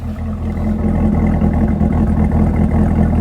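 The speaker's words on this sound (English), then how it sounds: "listen to this thing, even just letting it just idle" A Camaro ZL1's LT4 V8 idles close by with a loud, deep, continuous rumble and a slightly uneven lope throughout.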